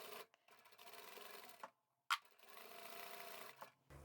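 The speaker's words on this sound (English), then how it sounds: "Let's take it to the machine and stitch down here." A sewing machine stitches a seam on a fabric picnic placemat, running in short, quiet bursts broken by pauses and a sharp click partway through.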